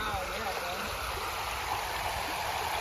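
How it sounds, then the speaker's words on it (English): Stream water rushes steadily through holes in a structure, a continuous, faint gurgling flow heard from nearby with no break. "look, the water passes through those holes"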